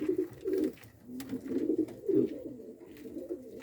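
A flock of recently bought pigeons coos softly nearby in a series of low, rolling coos that repeat every half second or so, with no talking over them.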